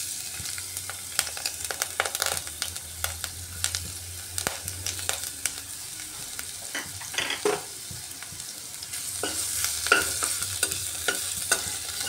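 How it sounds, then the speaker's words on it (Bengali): Chopped garlic fries in about a spoonful of mustard oil in a pan with a soft, steady sizzle. Intermittent scraping and stirring clicks sit on top, with no voices. "রসুনটাকে দিয়ে একটু ভাজা ভাজা করে নিচ্ছি"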